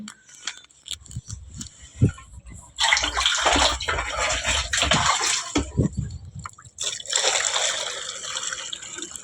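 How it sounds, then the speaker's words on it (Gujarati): Water pours from a tap into a bucket being filled for mixing Holi colour outdoors in a village. The gushing splash starts and stops in uneven bursts, with faint voices at times. "ડોલ ભરાઈ ગઈ"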